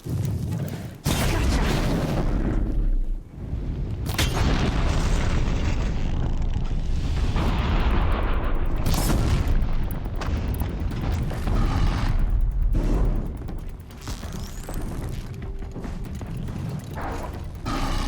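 Heavy booming explosions and mechanical clatter from a machine's mine launcher in Horizon Zero Dawn, a loud, sustained barrage of blasts and rumbling impacts with few pauses.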